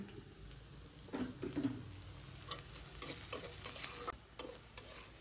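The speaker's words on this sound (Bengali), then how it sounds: "পেঁয়াজ ভাজা শেষ এখানে আমি একটু লবণ আর হলুদ দিয়ে দিয়েছি" Onions sizzle in a frying pan with salt and turmeric while a spatula scrapes and clatters in short irregular strokes, close and fairly quiet, with no talking.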